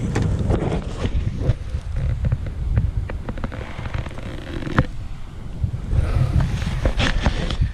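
Gusty afternoon wind on a lake buffets the microphone continuously, a rough rumbling roar with scattered crackles and pops throughout.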